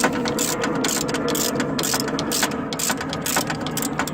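Rapid ratcheting clicks from tightening the alternator serpentine belt on a 2002 Subaru Impreza WRX, a steady close mechanical clatter of pawl and socket running continuously without pause.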